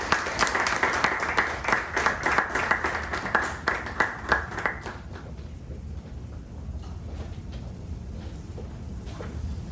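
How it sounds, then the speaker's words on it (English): Hall applause at a Toastmasters club meeting opens as a burst of distinct, rhythmic claps for about five seconds, then thins into softer scattered clapping and room noise. "with a thunder of round of applause"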